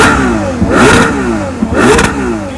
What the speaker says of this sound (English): Let's listen to the sound of the exhaust.